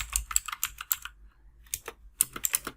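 Bursts of JavaScript typing on a computer keyboard, with quick clusters of clicky keystrokes, a short pause in the middle, then another rapid run of keys, close and fairly loud with no talking.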